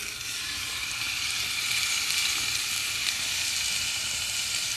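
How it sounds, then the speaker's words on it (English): Steady, bright sizzling of steak frying in olive oil in a hot pan, a continuous crackling hiss that holds even and close throughout with no talking. "Add your steak, you should hear a sizzle."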